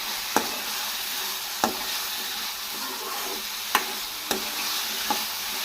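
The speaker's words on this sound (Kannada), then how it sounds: "ಈ ಪೊಟ್ಯಾಟೊ ಇವಾಗ ಫ್ರೈ ಆಗಬೇಕು." Potatoes fry in a pan with a steady, close sizzle and hiss, broken by a few sharp scrapes and clicks as they are stirred at irregular intervals; no voices are heard.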